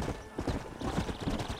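Horse hooves clip-clop at a steady walking pace in Red Dead Redemption on Nintendo Switch, clear and close with no one talking.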